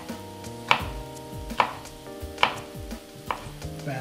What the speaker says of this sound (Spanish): ahora simplemente lo que vamos a hacer son cortar otra vez bastoncitos